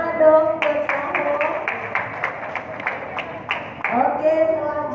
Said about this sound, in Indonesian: Tepuk tangan dong buat kamu.